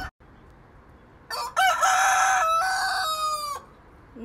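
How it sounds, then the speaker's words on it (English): After a quiet start, a rooster crows loudly up close, one drawn-out harmonic call lasting a couple of seconds, then quiet returns. "So we have two roosters. They like to crow back and forth."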